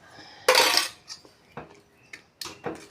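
A spoon scrapes and knocks against a pot while kavuni rice pongal is mixed with butter, giving several separate clattering strokes at an uneven rhythm, close and fairly loud with quiet gaps between them.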